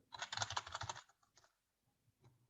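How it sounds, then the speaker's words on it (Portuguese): Keys clatter on a computer keyboard in a quick burst of typing, followed by a few isolated, separate key presses such as Enter, close and fairly quiet. "Estou a copiar, mas estou a carregar no Enter"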